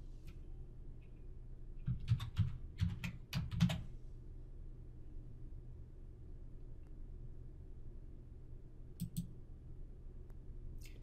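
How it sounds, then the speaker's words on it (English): Fingers tap out a URL on a computer keyboard, a quick cluster of soft, close key clicks followed by quiet room hum and a couple of later isolated clicks. "And we'll type in URL."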